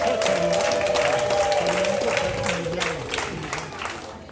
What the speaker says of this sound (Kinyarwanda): mubambera amashyi ndetse n'impundu babyeyi rwose